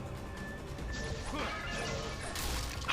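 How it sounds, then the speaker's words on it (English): A clay pot smashes in Ninja Gaiden Black 2, a bright crash with a scattering burst near the end, heard over steady game background sound. "We still got that pot crashing sound effect I love."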